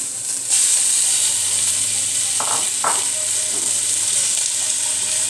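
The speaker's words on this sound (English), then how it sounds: "So we're gonna wait for that to sizzle." Chicken, onions and garlic sizzle steadily in a hot frying pan, a constant close hiss starting abruptly, with a few soft clicks of stirring.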